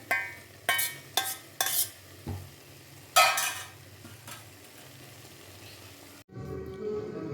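Carrots, beans and cauliflower stirred into frying masala in a pan for vegetable biryani: a handful of sharp spoon scrapes and clatters over a low sizzle, then a quieter stretch and a shift to softer bubbling.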